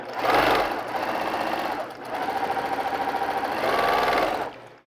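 A sewing machine chain piecing quilt pieces runs in two fast, steady bursts of rapid needle stitching with a short pause between, close and fairly loud, then stops.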